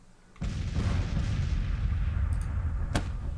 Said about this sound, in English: My 24-pounders are going to open up on him right off the bat